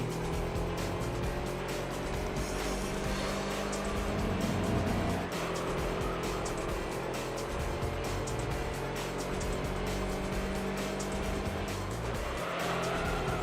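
Race car engine roaring steadily at high revs with tire squeal under braking into corners in Gran Turismo 3: A-Spec simulation mode, loud and continuous throughout with no talk.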